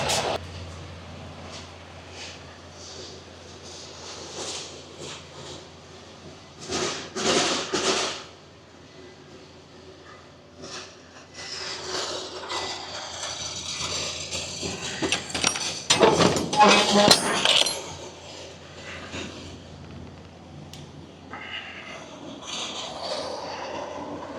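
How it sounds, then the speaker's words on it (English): A semi-trailer's tandems are slid and its rear doors opened at a loading dock: metallic clunks, scrapes and rattling bursts over a steady low engine hum, with some scattered movement noise. "we got to slide our tandems and open the doors"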